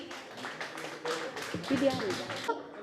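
An audience claps at a school award ceremony in a hall, rhythmic moderate hand claps in bursts, with a voice speaking over them.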